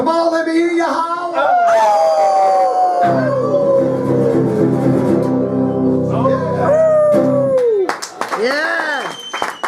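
A live bar audience at a blues show howls like dogs, with many voices imitating canine howls in rising and falling wails over a sustained band of music, followed by cheering and clapping.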